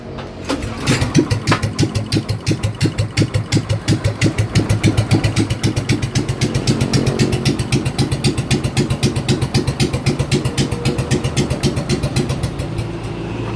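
A motorcycle engine runs loud and close, a steady rapid thumping idle that continues throughout without talk.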